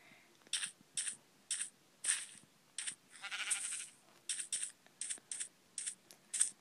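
Sheep in Minecraft Pocket Edition bleat in a rapid series of short, bright calls, about a dozen evenly spaced bursts with one longer drawn-out bleat in the middle, fairly close and clear over a quiet background.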